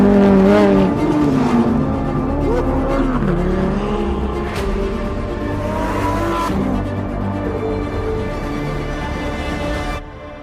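A Lamborghini Huracán Sterrato drifts on a dirt surface, its engine revving and shifting in pitch while the tyres slide and scrabble, loud and close before cutting off abruptly near the end.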